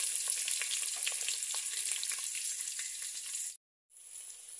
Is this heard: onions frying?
yes